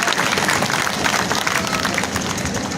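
Loud, dense applause from villagers at an evening village development meeting in Chuli, welcoming the district in-charge officer, many hands clapping steadily and close throughout.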